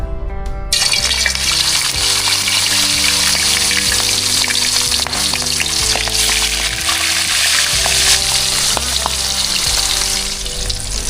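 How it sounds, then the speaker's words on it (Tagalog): Slices of milkfish (bangus) fry in hot oil in a pan, giving a loud, steady, close sizzle that runs unbroken throughout with no voices over it. "O malaki na isang pirasong bangus. Iprito natin yung ibang size o slice."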